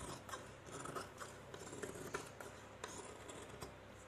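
Scissors cut fabric for night dress pants in quick, quiet snips close by. Soft crisp clicks repeat in an uneven rhythm at low volume.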